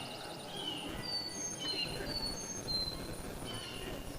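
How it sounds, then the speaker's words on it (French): Birds chirp and call intermittently in a park, faint and somewhat distant over a steady low rumble of background noise. "On entend les oiseaux."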